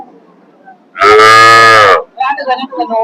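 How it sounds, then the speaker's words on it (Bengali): A Holstein Friesian heifer gives one loud, close, sustained moo lasting about a second, followed by a short stretch of quieter, uneven sound that may be voices. "প্রথম বেনি খুব সুন্দর একটি হলস্টিন ফ্রিজিয়ান মানসম্মত একটি বকনা"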